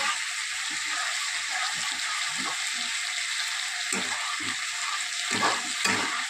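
Shrimp pulao base frying with milk in a pan over low gas, a steady close sizzle with intermittent scraping stirs, no talk.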